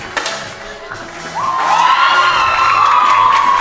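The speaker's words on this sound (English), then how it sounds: "Deafening screams." Teammates erupt in loud, sustained cheering and high-pitched screaming in the hall at a junior men's 10m air rifle final, the crowd noise swelling after a brief shout and holding steady.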